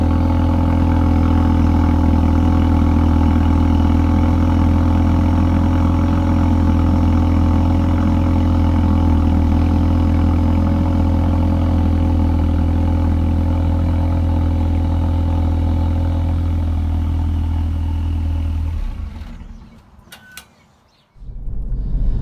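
A Ford Focus RS engine idling after a cold-start misfire holds a loud, steady, droning hum close by for most of the stretch, then cuts off abruptly near the end, leaving a few faint clicks and near silence.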